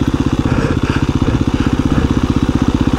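KTM dirt bike engine while riding, a loud, close, rapidly pulsing single-cylinder drone that holds steady and unbroken throughout.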